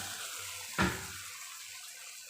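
A short splash of water poured into a pan while cooking poha with potatoes, one brief gush around the middle over quiet kitchen background.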